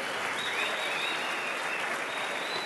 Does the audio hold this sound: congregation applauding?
yes